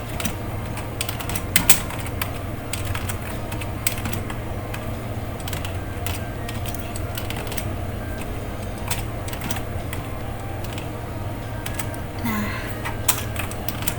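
Keys tapping at a steady, uneven pace on a computer keyboard, close and fairly clear over a constant low hum, with a few louder clacks scattered through.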